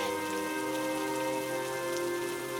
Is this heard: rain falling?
yes